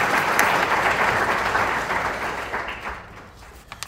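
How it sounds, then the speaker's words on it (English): A crowd applauds steadily, a dense wash of clapping that slowly fades toward the end, with a few last isolated claps. "And please, another round of applause for Nadifa Mohamed."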